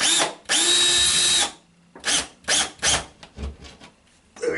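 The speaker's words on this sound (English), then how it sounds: "It's only a tiny hole you need to drill." A power drill bores a small hole for a Philips Hue motion sensor mount: one long loud whirring run, then a string of short bursts, each followed by a pause.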